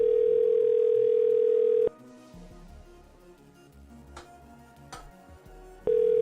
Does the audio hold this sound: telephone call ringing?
yes